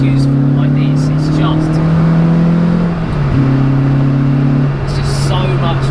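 A Renault Clio 172 hot hatch being driven hard, its engine droning steadily inside the cabin, then dropping and picking back up through a gear change, with someone talking over it.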